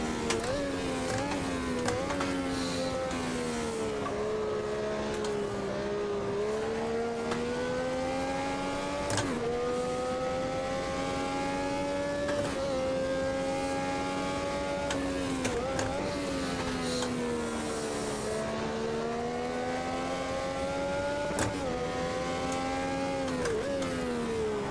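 A race car engine drones continuously in the Automobilista 2 video game, its pitch rising and falling steadily through gear changes and throttle shifts over a long stretch, loud and close with no talking.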